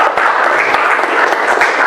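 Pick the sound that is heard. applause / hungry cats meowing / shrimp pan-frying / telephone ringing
applause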